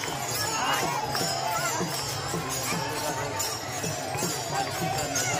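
Dense crowd gathered for the Dnyaneshwar Mauli palkhi procession, a steady wash of many voices and movement with rhythmic thumps underneath, loud and continuous throughout.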